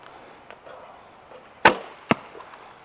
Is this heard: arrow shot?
yes